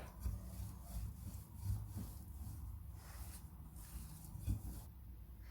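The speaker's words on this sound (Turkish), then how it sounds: "Hamurumu açmaya başlıyorum." Pastry dough for açma being rolled out with a rolling pin on a floured surface, a soft, faint, rhythmic rubbing and rolling with repeated low thumps throughout.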